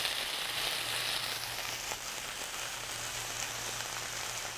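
Chicken pieces sizzle and fry steadily in a hot pan, a constant crackling hiss with no pauses, close and fairly loud, with a low steady hum beneath, as garlic and other ingredients for an Asian-style cashew chicken dish go in.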